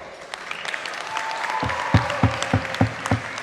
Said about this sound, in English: make sure you cheer for everyone loudly